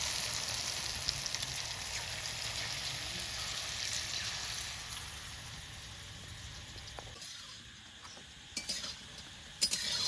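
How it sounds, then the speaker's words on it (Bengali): Soybean pakoras deep-fry in hot oil with a close, steady sizzle that eases toward the end, followed by a few sharp utensil clinks. "এবার বাকি পকোড়াগুলো এভাবে ভেজে নেব।"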